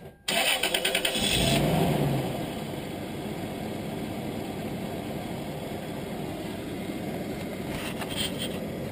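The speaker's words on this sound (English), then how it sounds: "Okay, Sean, start the engine." A car engine cranks and catches with a loud burst, then settles into a steady idle that runs on alone while transmission fluid is being flushed.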